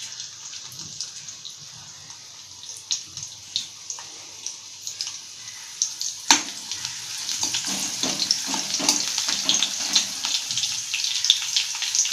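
Garlic frying in hot oil for a spicy Bombay duck curry, a steady low sizzle with scattered crackles and pops that grow busier and louder partway through, with no talking over it.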